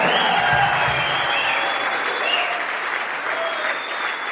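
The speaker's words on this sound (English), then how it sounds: "Give her a round of applause." Audience applause fills a theater during a tribute concert, a steady dense clapping with some crowd noise that holds loud and even across the whole clip.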